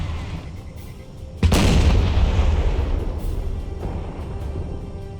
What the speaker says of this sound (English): we'll listen to all these artillery shots